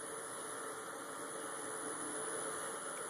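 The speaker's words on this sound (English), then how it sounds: "this motor's synchronous RPMs is 1800, so when I push it all the way down, that's 1800 RPM" An electric motor runs at its top speed of 1800 RPM, a steady, even whine with a constant high tone and a faint hum, with no voices.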